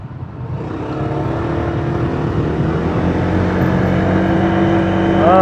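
A Honda Vario 160 scooter engine revs up, its drone climbing steadily in pitch and loudness over several seconds, close and continuous, with no voices.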